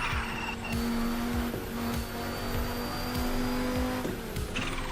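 A Lamborghini Aventador roars steadily through a racing video game, its engine droning loud and continuous with a couple of sharp shifts in pitch, while tire noise hums underneath.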